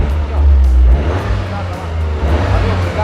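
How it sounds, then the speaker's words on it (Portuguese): A Toyota GR Corolla Core 2024 hatch with its 1.6 turbo engine rumbles loud and close, a steady deep idle with a slight surge early on, no talking over it. "E agora eu vou abrir a porta aqui para mostrar para vocês o ronco do carro."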